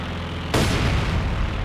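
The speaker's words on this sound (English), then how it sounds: "Of course he's going to be going after that with his mortar half-track." A mortar half-track fires in a Company of Heroes 2 match, a sharp sudden blast that jumps out of low battlefield rumble and spreads into a loud, noisy wash lasting over a second.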